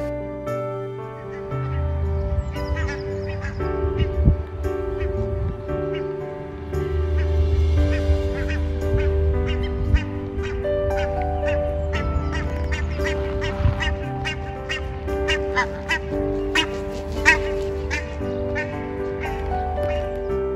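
White-faced geese and Canada geese honk and quack repeatedly outdoors in Finland, a loud, busy flock chorus that continues throughout with some speech mixed in.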